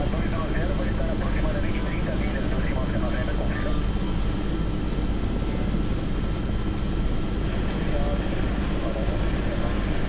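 A Robinson R66 helicopter runs on the ground ahead of takeoff, its steady turbine whine and rotor drone filling the clip at constant loudness, with voices speaking over the engine noise.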